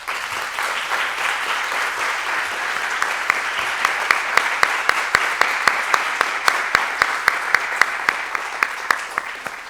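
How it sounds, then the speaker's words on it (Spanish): An audience at an art history symposium applauds a conference speaker, a dense, steady round of clapping that carries on for about ten seconds with distinct sharp claps standing out near the front. "Nuestra siguiente invitada, a la cual también quiero pedir otro gran aplauso, es Susé Sánchez."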